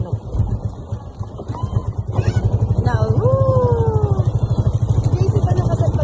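Small motorboat engine chugging with a fast, regular low pulse during a boat ride at Tondaligan, steady and close, under people chatting and calling out.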